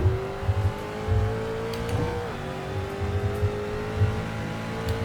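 A race car pulls hard in first gear toward the Speedway turns, its engine note climbing steadily as it revs, with brief lower rumbles and tire noise; close and loud, no talk.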